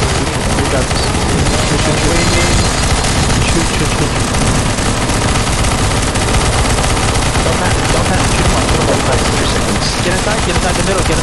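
Nonstop rapid automatic gunfire from the video game CS:GO zombie escape mode fills the clip, loud and dense with overlapping shots and no pauses.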